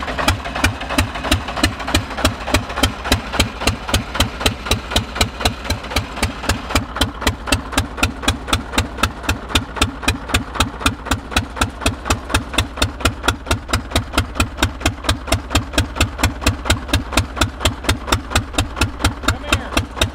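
An old tractor engine, started for the first time in ten years after bleeding air from the fuel system, runs at a steady idle with a loud, even, rapid chugging pulse from start to end and no voices.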